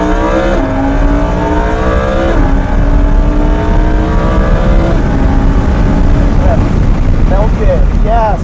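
A Lamborghini Huracan or Ferrari 488 engine roars loudly and continuously on a race track, its pitch climbing and shifting through gears, with a voice briefly talking over it.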